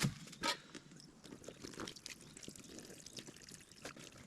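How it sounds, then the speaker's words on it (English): Faint water pouring and trickling into a camp washing-up bag with small splashes and gurgles, soft and uneven, a few sharper spurts standing out near the start. "Get some water in there from our washing up"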